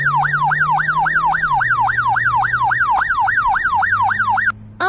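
A video game police car siren wails in a fast, steady up-and-down cycle, loud and continuous over a low engine hum, cutting off near the end.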